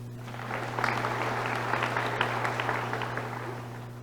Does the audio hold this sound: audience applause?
yes